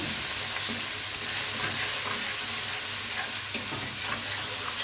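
Garlic paste and spices sautéing in a pan, a continuous close sizzle with soft scraping and stirring sounds throughout, steady and fairly loud, with no voices.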